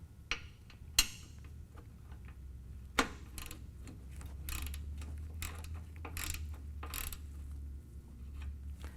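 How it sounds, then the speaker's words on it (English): A ratchet with a 5/8 inch socket loosening the oil drain plug on a Harley-Davidson motorcycle, giving a few sharp metallic clicks and short ratcheting strokes, close and fairly quiet, over a low steady rumble. "Take your ratchet and your 5/8 inch socket"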